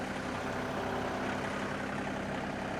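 A tractor engine runs steadily while driving a PTO-powered rake used for grading uneven ground, a continuous loud low drone with no breaks or talk.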